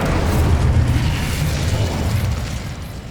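In the Hogwarts Legacy video game, a cast Incendio fire spell gives a loud, rumbling whoosh of flame with a deep booming body that fades slightly over about three seconds, no speech.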